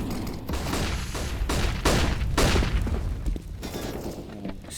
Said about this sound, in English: So many flashbangs, it was like a symphony.